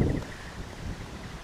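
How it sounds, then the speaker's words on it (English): Strong wind blowing outdoors at a beekeeping site in spring, a rough gust buffeting the microphone at first, then a lower steady rush. "It's getting really windy out here"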